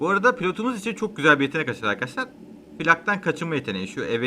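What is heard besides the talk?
No everyday noise stands out behind the speech.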